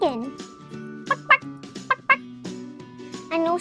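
A chicken pet in the Roblox game Adopt Me clucks and gobbles in short pitched bursts, several quick calls in a row over a soft game music bed.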